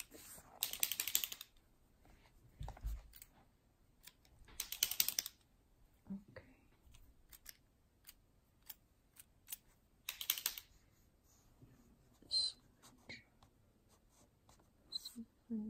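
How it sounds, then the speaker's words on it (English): A pencil writes in a math workbook close by, with scratchy strokes in short bursts separated by quiet pauses, plus light taps and faint soft voice in between. "I think I will use a pencil to do this job."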